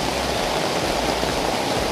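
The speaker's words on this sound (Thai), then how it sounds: "ฝนตกแรงมาก" Heavy rain pours steadily near a waterfall trail in the jungle, a loud, dense, unbroken hiss with no voices.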